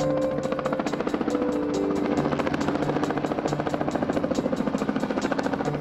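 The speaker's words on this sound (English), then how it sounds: "we follow the sound of helicopter rotors to southeast Kentucky" Steady, loud rhythmic chopping of helicopter rotors with a continuous engine drone during an elk capture in southeast Kentucky, close and unbroken throughout, no voices.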